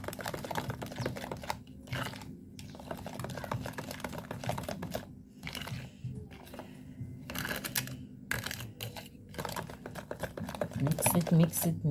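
Dense clicking and scraping as biscuit dough ingredients, including flour, are stirred together in a bowl, steady and close, with a person talking over the mixing.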